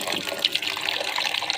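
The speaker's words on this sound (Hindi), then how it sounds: "पानी भरेंगे, पानी डालेंगे।" Water gushes and splashes steadily from close by as a bowl is filled for pigeons, a continuous pouring sound with no talking.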